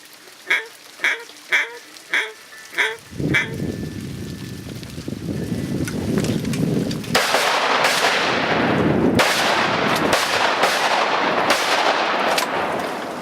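Hunters on a bayou duck hunt: a series of duck calls or quacks at the start, followed by several loud, close shotgun blasts over outdoor noise.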